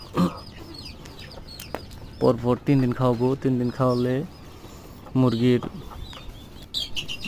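High, thin chick peeps scatter through the clip while a person talks over them at close range.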